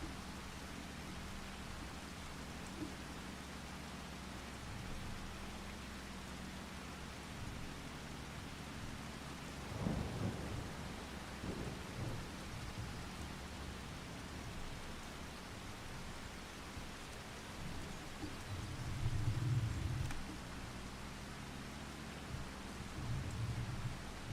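Steady rainfall in the Farming Simulator 25 video game, soft and continuous, with low thunder rumbling twice, once midway and again near the end, and no voices.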